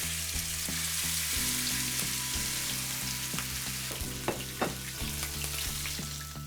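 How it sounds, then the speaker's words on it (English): A seal fillet fries in a very hot pan, giving a dense, loud sizzle with a steady low hum beneath and several sharp pops and scrapes. No one speaks. "The pan is really hot now, so I'm just gonna put it a few minutes in it."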